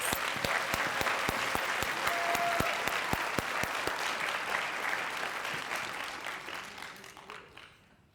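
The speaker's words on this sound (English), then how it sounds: "Let's give them all another round of applause." Another round of applause from the audience at a Teacher of the Year awards ceremony: steady, full crowd clapping throughout, with a few sharp distinct claps standing out, gradually fading at the end.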